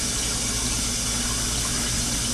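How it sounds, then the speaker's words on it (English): A turkey sits thawing in a sink as tap water runs steadily onto it, a loud, unbroken rush and splash of flowing water with no pauses. "the turkey has been in the water, with the water running"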